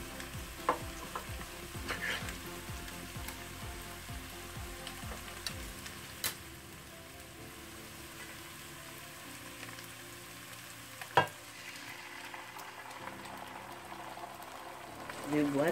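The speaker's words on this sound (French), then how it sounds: "Je vais maintenant y rajouter de la tomate pelée déjà hachée." Peeled, chopped tomatoes added to a Bolognese sauce in a pan, stirred with a rhythmic scraping at first, then settling into a soft, quiet sizzle and bubbling with an occasional knock, no voices.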